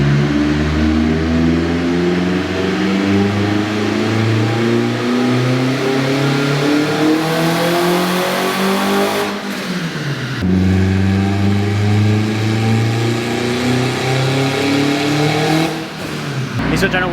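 A turbocharged K20 engine in a Honda Civic pulls hard and loud under sustained acceleration, its pitch rising steadily and then dipping at two gear shifts before it winds up again, heard from inside the car.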